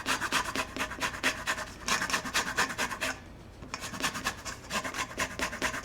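An orange is zested with rapid, rhythmic rasping strokes against a grater. The scraping is close and steady, with one brief pause midway, and no voices are heard.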